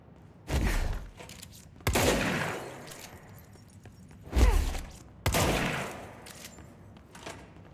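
Projectile weapon fire in the game Control: a handful of heavy, sharp bursts spaced a second or two apart, each with a thudding low impact and a short decaying tail, standing alone at moderate level.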